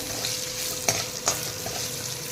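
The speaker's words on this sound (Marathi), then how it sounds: "त्याच्यामध्ये उडीद दाल मिरच्या आणि कढीपत्ता घातलेला आहे आणि तो आपण एखाद दोन मिनटं परतून घेऊया" Urad dal, chillies and curry leaves sauté in hot oil in a pan for coconut rice, a steady close sizzle broken by two quick scraping stirs of a spatula.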